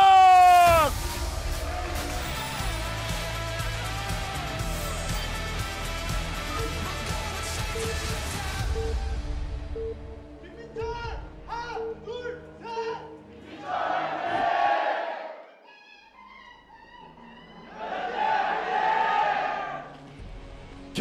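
At the 2023 ASL Season 16 StarCraft final, a large audience in the arena roars and cheers loudly for several seconds, then the noise fades as commentators talk and shorter bursts of crowd noise follow.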